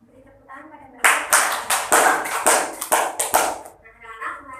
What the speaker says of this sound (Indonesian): Beri tepuk tangan pada Mbak